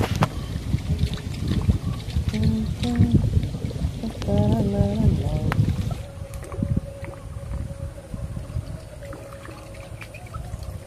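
A houseboat moves along the Kerala backwaters with a low, steady engine drone, mixed with water splashes and wind buffeting. Voices talk at times during the passing.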